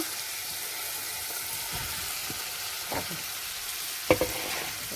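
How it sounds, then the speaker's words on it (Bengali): Green jackfruit goes into oil with frying spices, giving a steady sizzle with a few stirring scrapes and one sharper clank near the end, close and moderately loud, with no voices. "এবার দিয়ে দেব কাঁঠাল, এঁচোড়টা দিয়ে দেব"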